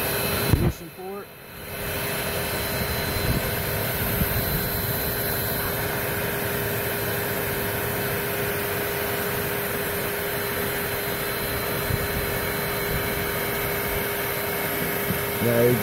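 A homemade wood gasifier roars steadily as flame is drawn down into its ignition port, giving a loud, constant broadband rush and hum that continues unbroken after a brief dip near the start.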